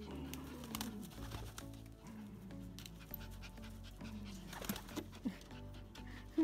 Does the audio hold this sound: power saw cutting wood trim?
no